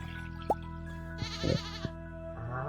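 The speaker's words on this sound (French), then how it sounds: "on a de nouveau un mouton qui a de la laine qui est prête" Sheep bleating in the farming game Stardew Valley, a few short separate bleats over soft background game music, with small clicks and a brief higher tone between them.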